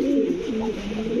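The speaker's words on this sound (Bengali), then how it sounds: "দর্শক দেখেন, খুবই সুন্দর কবুতর।" A pair of fancy Kashmiri racer pigeons, male and female, coo close by, a low, rolling, throaty warble that continues steadily with slight pitch dips, clear and alone without talk.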